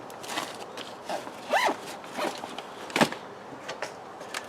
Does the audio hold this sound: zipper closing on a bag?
yes